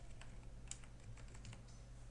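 Keystrokes on a computer keyboard while entering an error message in Microsoft Excel, a quiet run of irregular clicks over a low steady hum, with no talk.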